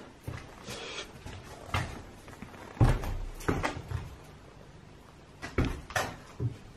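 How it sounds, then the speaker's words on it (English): An old door in a haunted house knocks and thuds several times in scattered, irregular bursts against a quiet background, with no voices. "that door makes very weird noises"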